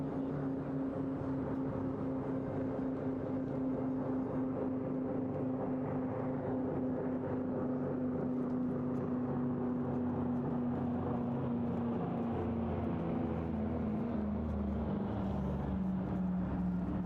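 Vintage aircraft leave an airshow at Eastbourne, their engines a steady, fairly faint droning hum that slowly drops in pitch as they head away into the distance.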